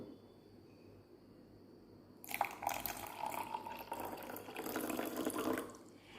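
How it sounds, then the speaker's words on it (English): Water pours steadily into a glass beaker holding soil, a splashing, filling sound that starts after a quiet moment and runs for several seconds. "Now we will add some water into this beaker."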